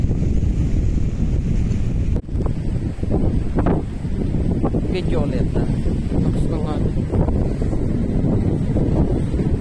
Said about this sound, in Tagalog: Galit ang dagat dito.